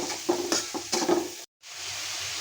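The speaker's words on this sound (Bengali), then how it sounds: "চিংড়ি মাছটা আমি এখানে হালকা ভাজা করে নেবো" Shrimp frying lightly in oil with turmeric and salt for a shrimp curry with cucumber, giving a close, steady sizzle with a few soft stirring scrapes, then a brief drop to near silence before the frying hiss resumes.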